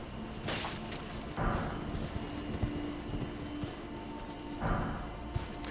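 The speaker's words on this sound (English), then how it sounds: "he is a super jumpy horse" Horse hooves clip-clop in a quick rhythm in Elden Ring, with occasional heavier thuds as if landing from jumps, over a low game-like background hum.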